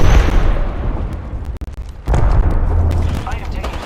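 Gunfire and explosive booms in the battle royale game Apex Legends ring out loud and close, with a brief drop before another heavy burst, while a voice talks over the fighting.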